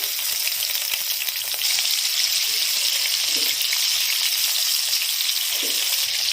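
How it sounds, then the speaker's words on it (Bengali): Prawns fry in a pan of hot oil, making a steady, loud, close-up hiss and crackle of sizzling that continues without a break, with no talking. "তেল গরম হয়ে গেছে, এবার এক এক করে চিংড়ি মাছ দিয়ে দেব।"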